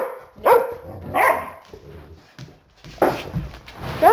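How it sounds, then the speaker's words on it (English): Several dogs bark and growl at each other in short, sharp bursts, close and loud, with yips and grumbling between outbursts as they correct one another. "They're not fighting. That's normal dog behavior."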